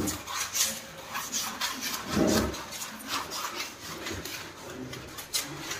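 A toilet scrubbed with a brush after adding Harpic cleaner, producing faint repeated rubbing and scraping strokes in an irregular rhythm, with one louder swish near the middle.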